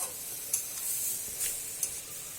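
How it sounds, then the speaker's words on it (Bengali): Cabbage and egg fry being stirred in a pan, with a steady hiss of sizzling and a few soft scraping strokes of the spatula spread across the moment, no voices. "ডিম দিয়ে পাতাকপি ভাজি দেখি তরকারিটা লাড়া দিয়া দিই"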